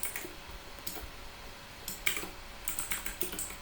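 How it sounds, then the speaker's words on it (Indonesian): Code being typed on a computer keyboard, with bursts of quick, close key clicks separated by brief pauses. "Jadi misalnya di sini saya coba ketikkan sysout"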